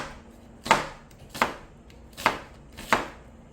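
Four crisp knife strikes on a cutting board as onion halves are sliced thinly along the grain for perilla leaf kimchi, evenly spaced and close, each a sharp tap over a quiet background.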